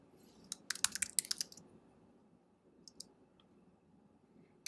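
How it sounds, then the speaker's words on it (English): Sharp mouse clicks come in a quick cluster near the start, then a couple of isolated clicks follow in an otherwise quiet room while working at a computer. "Just click the green plus sign right here and it will add another one for you."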